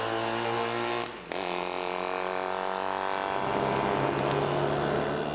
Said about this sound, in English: The 560cc Scott two-stroke engine, easily heard despite the din, is water-cooled inside and outside this time.